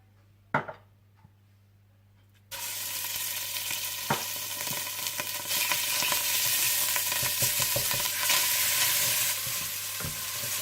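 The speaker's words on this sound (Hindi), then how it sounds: "तेल गरम कर लीजिए और इसमें अदरक लहसुन डालकर थोड़ा भून लीजिए" Ginger and garlic hit hot oil with a sudden loud sizzle that continues as a steady crackling fry, punctuated by the scrape and clack of a spoon stirring the pan.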